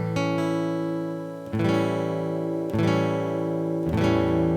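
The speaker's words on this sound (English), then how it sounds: "So this is an A dominant 7th." An A dominant 7th chord rings out on guitar, strummed four times with each chord left to sustain and decay before the next strum, clear and close with no talking.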